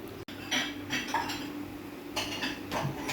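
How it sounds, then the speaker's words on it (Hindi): Chicken karahi is dished out with utensils, giving a sharp initial clink and then soft scraping and metallic rattles of spoon against pan and serving dish. "अब हम आपको डिश आउट करके दिखाते हैं।"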